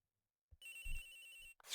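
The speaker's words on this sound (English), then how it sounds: "Agent's phone! It's ringing from somewhere." A phone rings in the Ace Attorney Investigations video game, one short electronic ring burst with a steady tonal trill, clear and isolated after a brief silence, followed by a bright chime.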